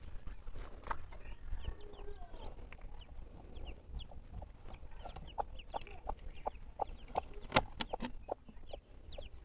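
A backyard hen with four newly hatched chicks, giving soft clucks among a scatter of quick, high peeps from the chicks, close by and fairly quiet.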